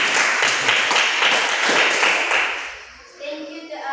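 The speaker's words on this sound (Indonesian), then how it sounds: "Tepuk tangan dulu untuk kelompok ini." Dense applause from a classroom for a presenting group, loud rapid clapping that fades out after a few seconds, followed by voices talking.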